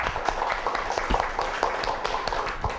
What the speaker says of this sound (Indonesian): Tepuk tangan untuk Bu Sugiwati